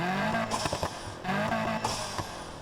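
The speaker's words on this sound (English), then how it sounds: "The turbo sounds are changed as well" Modded car engine in the racing game NFS Heat, revving and roaring with altered turbo whooshes and flutter, loud and close, rising and falling in bursts across a few seconds with no talking.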